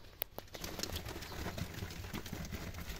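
Pigeons at a home loft coo nearby, with a brief flutter of wings near the start, then soft low cooing and rustling that continues steadily over quiet background.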